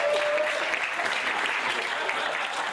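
An audience welcomes a protest folk acoustic singer with dense, steady applause throughout, loud and close, with no voices over it.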